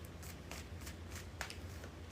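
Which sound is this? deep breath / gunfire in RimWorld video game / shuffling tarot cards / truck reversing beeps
shuffling tarot cards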